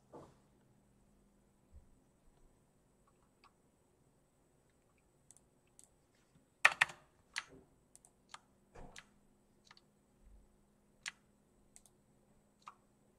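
Sparse computer keyboard keystrokes tap out coding shortcuts, quiet isolated clicks spread across the moment with a brief cluster of quicker presses in the middle, close by in a quiet room with no talking.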